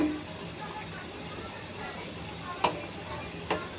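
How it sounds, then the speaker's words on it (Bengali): Palm fruit pakon pitha frying in oil, a low steady sizzle with two sharp utensil clinks near the end. "ভেজে নিচ্ছি।"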